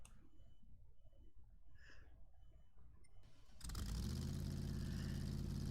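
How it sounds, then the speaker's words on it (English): A simulated V8 engine in GT Sport starts as a faint, distant hum, then swells into a loud, steady, deep burble that holds to the end. "Oh, hear the burble of that V8."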